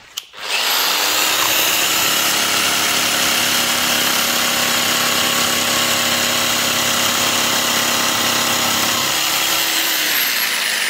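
A cutting machine slicing through acrylic sheet at its normal cutting speed, a loud, steady, unbroken whine running alone for about nine seconds before tapering off.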